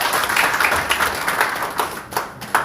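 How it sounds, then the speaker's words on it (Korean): Applause rises at a public hearing on a Gwangju special law as a speaker is introduced, dense clapping with a few louder individual claps standing out near the end. "김남진 박사 박수 부탁드립니다"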